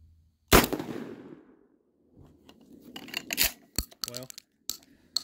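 A single loud shotgun blast fired at a target 20 yards away on an outdoor range opens the clip and rings off. Rustling and handling clicks follow, then a few scattered snaps.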